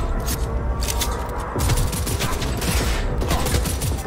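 Rapid automatic gunfire blasts continuously in Cyberpunk 2077 on PS5, a dense, loud fusillade of overlapping shots with heavy recoil thumps filling the whole stretch with no pauses.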